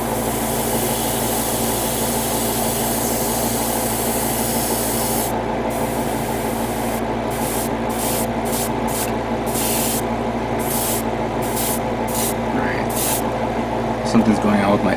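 An airbrush sprays paint onto parts of a 1/60 scale Bandai HG ARX-7 Arbalest model kit. The hiss is steady and close, and near the end it breaks into short bursts.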